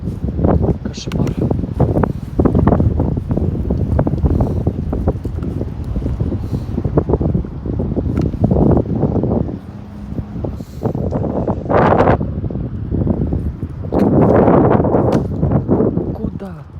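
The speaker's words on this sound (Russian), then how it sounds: "Ой, ребята, такой ветер сильный," Loud, blustery wind buffeting a microphone in rumbling gusts on a cold walk by the Dnieper River, with a person talking over it throughout.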